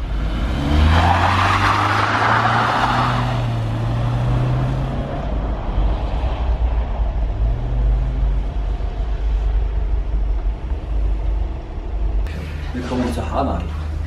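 Car drifting through a curve during winter drift training, a steady engine drone with rising revs and sliding tire noise throughout, while someone talks over it.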